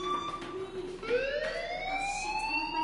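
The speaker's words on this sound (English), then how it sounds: "do you hear that fire alarm?" An alarm from the Life is Strange video game rises and falls in a sweeping wail, a loud, continuous tone that swoops upward and keeps sounding without a break.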